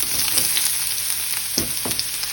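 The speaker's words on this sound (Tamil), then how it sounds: "இப்போது அதே பேனில் நான் வெங்காயம் போடுறேன்." Onion frying in a pan for cabbage chutney makes a continuous close sizzle, with a couple of brief stirring scrapes.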